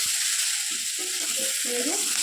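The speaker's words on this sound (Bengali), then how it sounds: "এখন ভেজে নিচ্ছি, পরে দেখা। কিন্তু আলুর তরকারিটা ভাজা ভাজা হয়ে গেছে।" Potato curry fries steadily in a pan, a constant loud hiss of sizzling oil close by, with soft clinks and scrapes of stirring over it.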